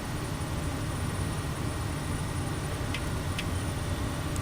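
A Simworks Studios Kodiak turboprop climbing out just after takeoff in a flight simulator near Kodiak Island, its engine and airflow making a loud, steady broadband roar with faint high clicks near the end.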